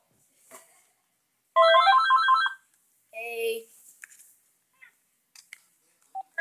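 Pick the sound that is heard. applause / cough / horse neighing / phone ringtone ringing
phone ringtone ringing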